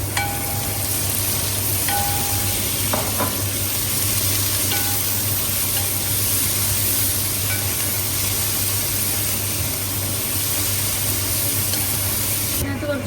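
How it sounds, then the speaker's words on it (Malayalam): Half a kilo of onions added to pork frying in a pan, a loud continuous hiss and sizzle with a few clinks of utensils, and a voice talking over it. "ഇത് നമ്മൾ ഇതിനകത്തേക്ക് ഒരു 1/2 കിലോ സവോളയാണ് ചേർത്ത് കൊടുക്കുന്നത്."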